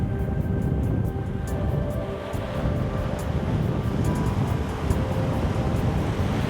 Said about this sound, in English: like the waves behind me